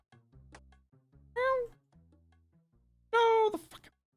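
Ripper cat in an online game gives two clear, close meows a couple of seconds apart over quiet game sounds and soft low tones.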